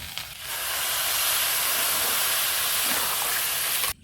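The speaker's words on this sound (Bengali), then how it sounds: "চাল ভাজা হয়ে গেছে এবার পানি দিয়ে দেবো" Water poured onto pilau rice frying in oil bursts into a loud, steady hiss of steam that holds for several seconds before cutting off sharply.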